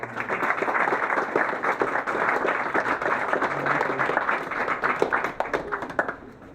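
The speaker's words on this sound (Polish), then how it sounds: "wielkie brawa" Crowd applause at an outdoor charity running event on a town square in Tarnobrzeg, steady dense clapping from a gathered audience lasting several seconds, fairly close and loud, tapering slightly at the end.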